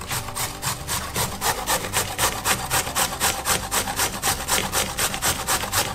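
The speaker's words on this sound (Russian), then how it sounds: "пока что перетираем на крупной терке одну морковь." A single carrot is rubbed down a coarse grater in quick, steady rasping strokes that repeat evenly and sound close and fairly loud, with no talking.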